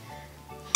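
A dog's squeaky plush toy, a big alien dinosaur, gives a single short sharp squeak right at the end after near-quiet, close and loud.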